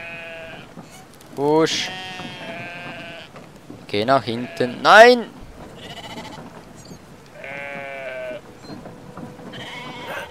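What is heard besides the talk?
sheep bleating in the video game Brothers: A Tale of Two Sons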